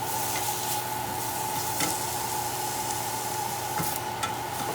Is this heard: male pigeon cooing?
no